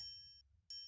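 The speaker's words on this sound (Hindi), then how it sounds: "जैसे कि हम इसमें घंटी ऐड करेंगे" Two bright bell rings, each with a long shimmering tone, the second struck just after the first fades, faint and clean.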